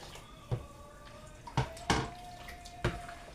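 Water sloshes and splashes in a basin as sorrel is washed, with four distinct splashy bursts as it is swished around, and a faint tonal ring between them.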